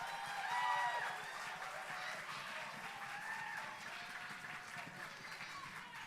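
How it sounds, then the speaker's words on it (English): Applause from a school concert audience after a 5th and 6th grade band performance, a moderately distant wash of clapping with background voices and faint tones, steady and then slowly thinning over several seconds. "Let's give them a hand."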